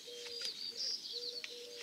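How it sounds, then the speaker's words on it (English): Doves cooing outdoors, soft repeated hollow coos in a slow rhythm at moderate distance, with faint high chirps from other birds in the background. "Hear those birds? Those are doves. They say hoo-hoo-hoo"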